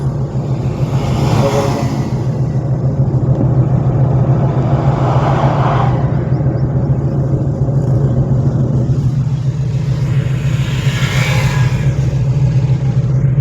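Car engine holding a steady mid-pitched drone through a driving lesson, with gentle surges of acceleration swelling and easing every few seconds, continuous and close.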